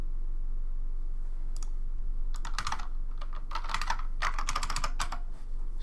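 Computer keyboard typing during a Mario 64 randomizer game session: quiet at first, then bursts of rapid clicky keystrokes in uneven clusters, fairly close and moderately loud over a low hum.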